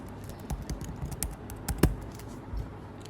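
Keyboard typing on a computer while entering data into an Excel spreadsheet, soft scattered keystrokes tapping irregularly at a low level over faint background noise.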